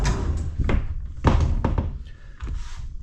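A wide bi-fold barn door in a house being moved by hand, giving several close thumps and knocks with a brief rolling scrape, loud and heard without talk.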